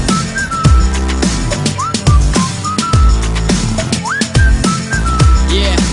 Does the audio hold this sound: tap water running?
no